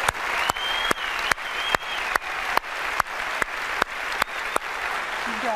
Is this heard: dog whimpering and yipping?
no